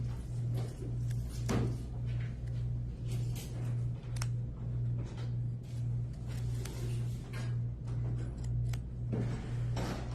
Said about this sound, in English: So I'll trim the seam allowance in half to reduce the bulk.